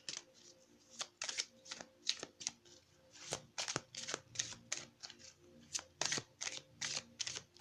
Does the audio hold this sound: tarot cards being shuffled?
yes